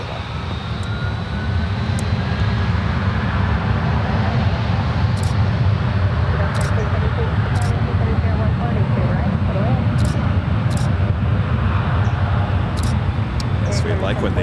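Southwest airliner on the runway at San Francisco International Airport, a loud, steady broadband engine roar sustained throughout, close by, with faint talk over it.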